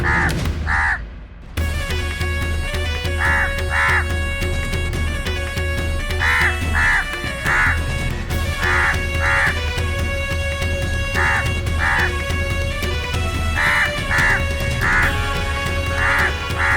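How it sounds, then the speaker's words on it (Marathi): A crow caws loudly in repeated pairs and short bursts at fairly regular intervals, set against a continuous musical drone in a devotional television drama scene. "कावळा का ओरडतोय?"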